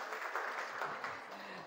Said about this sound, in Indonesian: tepuk tangan buat kakak kita yang hadir hari ini